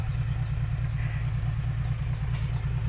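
A farm tractor engine idles with a steady, loud low-frequency throb, continuous and unbroken throughout with no speech over it.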